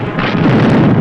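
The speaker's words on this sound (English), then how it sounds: "Their ammunition's exploding." Exploding ammunition: a loud, rumbling blast roars continuously for a second, dense and close, with a sharp burst near the end.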